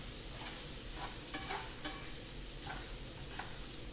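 Garlic prawns sizzling steadily in a hot pan after being flipped, a dense close frying hiss with a few faint utensil scrapes and no talk.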